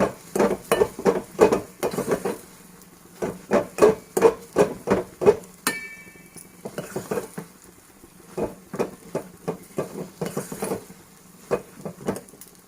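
Sooji and besan halwa with chopped cashews and almonds being stirred in a pan, a steady run of scraping, knocking spoon strokes in quick bursts, with a brief pause near the middle before the rhythmic stirring resumes.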